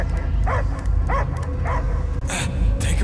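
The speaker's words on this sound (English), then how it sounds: "I hear only barking" Several sharp dog barks ring out at spaced intervals in a Guardians of the Galaxy video game scene, loud and close over a low rumbling game soundtrack.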